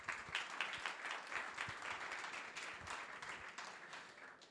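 An audience at a business conference applauds, a faint, scattered patter of many hands clapping at moderate distance that fades slightly toward the end.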